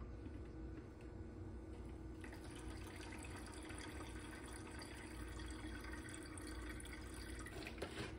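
Rubbing alcohol trickles and splashes steadily into a spray bottle, close and continuous, over a low background rumble.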